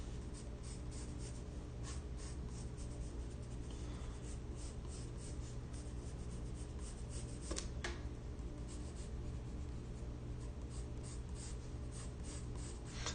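A pencil sketching figures on paper, a close, quiet, continuous scratching of short rapid strokes over faint steady background hiss, with no talk.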